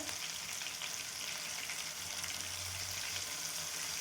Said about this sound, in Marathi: वाटण पण आपण टाकून घेऊया छान तेलामध्ये फ्राय करून